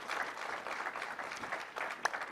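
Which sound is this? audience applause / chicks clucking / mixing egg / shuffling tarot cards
audience applause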